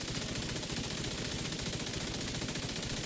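Rapid automatic gunfire from a video game, a dense, continuous burst of overlapping shots at steady loudness with no talk over it.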